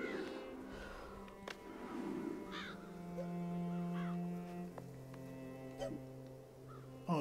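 Crow-like birds in Child of Light give wobbly, hiccuping caws, several calls scattered over a sustained musical drone, with no speech.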